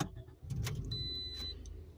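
A 2.4-liter front-wheel-drive Toyota RAV4 with a U241E transmission fires up quietly, its low engine note joined by a brief high electronic chime, all faint and close by.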